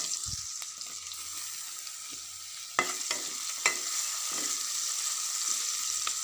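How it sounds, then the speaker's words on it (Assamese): Dried chillies frying in oil in a pan for an Assamese pigeon curry, with steady hissing sizzle and a few sharp scraping stirs of a spatula, close and alone. "এতিয়া দিম শুকান জলকীয়া দি লৰাই দিছোঁ।"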